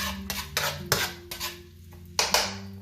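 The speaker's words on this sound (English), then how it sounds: "I'm going to be adding my onions to the pan." Half an onion going into a frying pan, a few sharp metallic clanks and scrapes of utensil against pan in irregular bursts, with a faint hum underneath and no voices.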